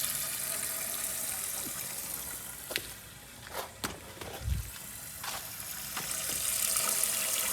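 Water runs quietly into the tank of a 1980 Eljer Emblem toilet as it refills, a soft steady hiss broken by a few clicks and knocks.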